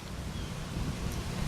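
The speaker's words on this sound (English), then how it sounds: "you can tell it's still windy out here." Wind from Hurricane Irma, a Category 2 storm, rumbles and buffets against the microphone outdoors in Pinellas County, a steady low roar with no voices.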